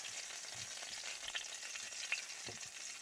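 Food sizzles steadily in a frying pan on a camp stove at a kayak campsite in Ontario, a close, constant hiss with faint crackles and no voices.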